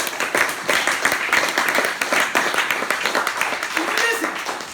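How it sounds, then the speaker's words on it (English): Congregation clapping at an Easter Sunday church service: a dense, steady wash of hand claps with crowd noise and voices layered through the whole stretch, sustained at a fairly loud level. "Come on, clap for Jesus."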